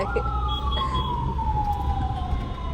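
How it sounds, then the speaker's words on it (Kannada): An ambulance siren wails through heavy traffic, a long falling tone sweeping down steadily, loud and fairly near, over the low rumble of engines on a congested road. "ನೋಡಿ, ಆಂಬ್ಯುಲೆನ್ಸ್ ಬಂತು ಇವಾಗ."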